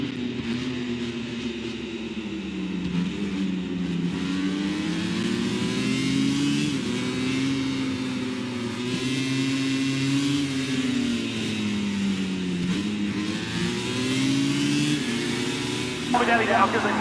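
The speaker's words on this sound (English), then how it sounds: "It's lights out. And we're racing in MotoGP here in the Grand Prix of Portugal." MotoGP racing motorcycles roar off the line at the start of the Grand Prix of Portugal, a dense, sustained pack of high-revving engines rising and falling in pitch, loud and continuous throughout with a commentator talking over it.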